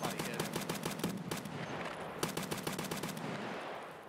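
Gunfire in Escape from Tarkov near the scav extract: rapid, evenly spaced automatic bursts with a short pause, then another volley, loud and close, with faint voices underneath.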